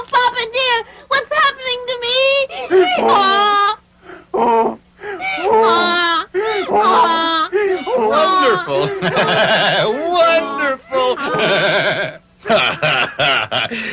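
Voices imitating donkey braying as characters turn into donkeys in a 1978 English version of Pinocchio, a loud run of harsh, wavering bray-like cries broken by short pauses and mixed with speech.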